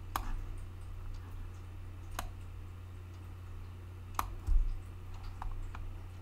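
Computer mouse clicks while resizing an image in Photopea: three or four sharp, isolated clicks spaced a couple of seconds apart over a low background hum, no talking.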